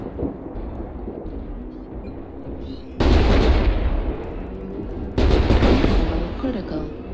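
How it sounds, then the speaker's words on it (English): A mech's ammunition cooks off in MechWarrior Online: two heavy booming blasts strike a few seconds apart, each with a rumbling tail, over constant battle noise and engine drone. "Ammo explosion."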